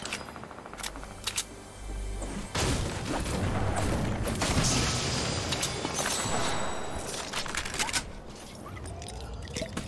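Rapid gunfire and explosive booms from a shooting video game, a dense, loud burst of shots and impacts filling the whole stretch with no pause.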